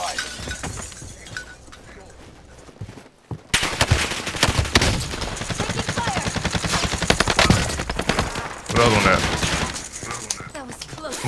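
Gunfire in a Fortnite duos match, dense rapid shots and crashing impacts after a short lull, continuing loud and close with players talking over it.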